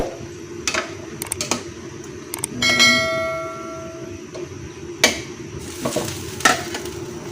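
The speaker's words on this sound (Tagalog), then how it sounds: "kumulo na siya, haluhaluin lang natin" Sardine soup with misua and patola bubbling in a pot while a utensil stirs it, with soft scraping strokes and clinks against the pot and a brief metallic ring partway through.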